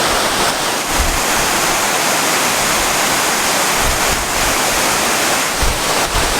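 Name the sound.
El Chiflón waterfall, 120 metres high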